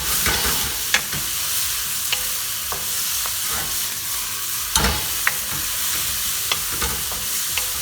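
Jalapeño sizzles loudly in a hot pan, with a bright continuous hiss broken by sharp clicks and scrapes as a utensil stirs it, close up and without voices.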